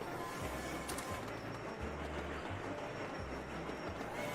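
Trains rolling along tracks in the city-building game Sweet Transit, a quiet, steady rumble with repeated low clattering pulses as cars pass, faint and distant.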